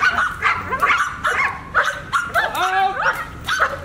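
A protection dog in guard training barks loudly and repeatedly at close range, sharp barks and yips in quick bursts, with people talking around it.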